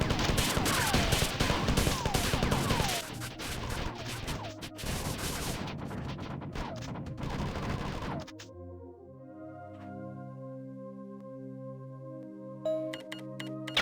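Marathon video game combat with troopers' grenades and hit-scan weapon fire: dense, rapid bursts of shots and blasts for several seconds, then the firing drops away into quieter tonal game sounds with a few faint late clicks.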